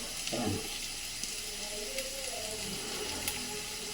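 Onion fries in a pan with a steady, close sizzling hiss, and a brief clatter near the start rises above the frying.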